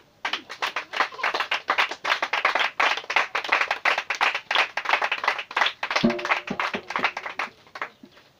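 A church congregation gives the pastor a steady round of rhythmic group clapping, loud and close, with a brief tonal sound near the end.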